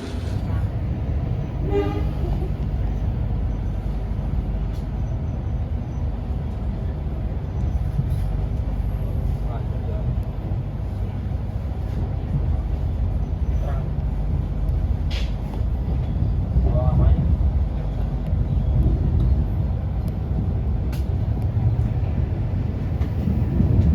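Economy class passenger train in Jakarta rolling steadily along, with a constant low rumble of wheels and carriage, a few short toots, and voices talking over it throughout.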